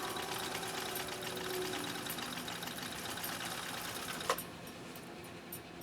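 A Husqvarna Viking 2000 sewing machine stitches through leather with a steady, close mechanical whir that runs throughout, broken by a brief sharp clack near the end.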